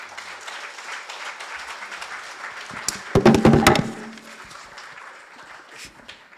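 Applause at an Edmund Fitzgerald memorial ceremony for a Gordon Lightfoot tribute performer: a steady wash of scattered clapping from a crowd, with a brief louder burst of claps near the middle before it fades back down.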